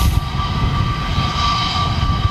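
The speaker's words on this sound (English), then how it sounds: "You can tell this is a Neo, both from the lights and from the sound of those beautiful engines" Steady Airbus A320neo jet engine roar at Manchester Airport with a sustained high whine, loud and continuous throughout, no voices.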